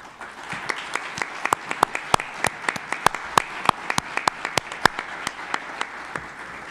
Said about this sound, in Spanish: Transmitiré su aplauso al autor de la ponencia